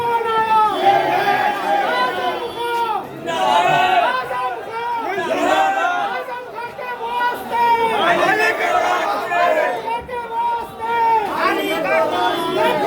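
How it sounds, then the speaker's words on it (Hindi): A large crowd of supporters chatters continuously on a roadside in Rampur, a dense close babble of many voices that swells and dips without pause. "तो बड़े पैमाने पर यहाँ पर समर्थकों की भीड़ उमड़ी हुई है।"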